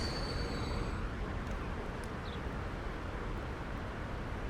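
Steady rolling rumble of a train moving along rails in the transport simulation game Transport Fever 2, a continuous even drone with faint high wheel squeal near the start, no talking.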